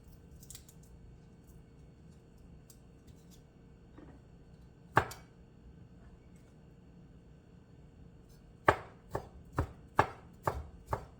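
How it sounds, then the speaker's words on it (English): Garlic cloves being peeled with a knife, a single sharp crack midway followed later by a quick series of five or six close, crisp chopping knocks on a board, otherwise quiet. "This is a much easier way of peeling garlic."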